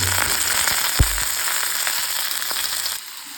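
Chopped garlic, shallots, ginger and green chillies fry in hot oil in a pan for a Kerala fish curry, giving a continuous crackling sizzle with a single soft thump near the start.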